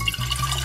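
Water poured into plastic bottles for a colour-mixing demonstration, a steady close liquid gush and gurgle filling the short moment without pause.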